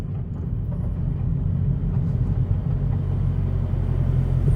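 Inside a 2022 Chevrolet Camaro ZL1 1LE with a manual gearbox, a steady low engine and road rumble continues at an even level as the car slows to a stop, with no talk.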